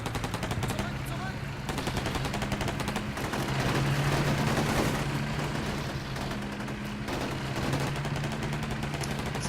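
Dense firefight gunfire in the Combat Mission: Shock Force 2 video game, a meeting engagement, with rapid machine-gun bursts and scattered rifle shots rattling almost without pause at steady, moderate loudness.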